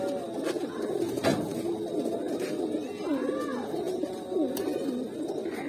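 Pigeons in a rooftop loft coo softly in low, rolling calls, several birds overlapping against a steady background hum with occasional faint clicks.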